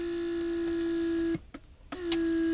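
Mercedes central locking pump, rescued after water damage, humming steadily while building vacuum and pressure, cutting out briefly and then resuming its even drone with a faint click.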